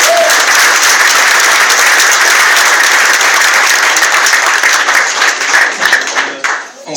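Loud, dense applause fills a convention hall at a tabletop gaming convention as a guest is introduced, a steady roar of clapping from a large crowd that thins slightly toward the end.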